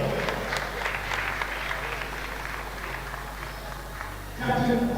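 Crowd applause at a National Futsal League indoor football match in South Africa, a steady wash of clapping running under an announcer's voice, swelling louder near the end.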